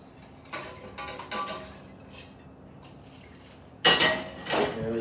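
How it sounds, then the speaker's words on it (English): Mushrooms dropped into a warm pot with avocado oil while cooking ramen, giving two short bursts of clattering, sizzling clinks a few seconds apart, the second louder, against quiet kitchen background. "We're going to add these mushrooms to this pot back here so I can get the rest cooking."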